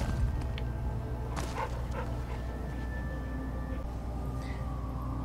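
A dog barks in the Fallout: New Vegas video game, a few short yips and barks rising over a dense, steady game soundscape with a low hum, fairly quiet in the mix.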